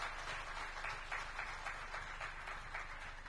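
An audience at a public forum with elected representatives applauds the mayor, a faint, distant wash of many hands clapping that stays even and continuous throughout.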